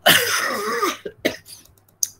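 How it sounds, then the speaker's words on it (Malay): A rough, drawn-out cough close to the listener, followed by a few shorter coughs and a throat clear trailing off into quiet. "batuk pula"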